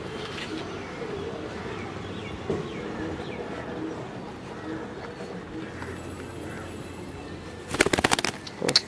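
A racing pigeon coos softly at close range through steady outdoor background noise, with people talking over it.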